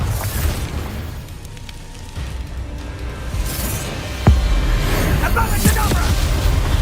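Bombarda blasts go off in Hogwarts Legacy: a rumbling lead-in, then a sharp, loud boom about two-thirds through, followed by crackling debris and lingering rumble.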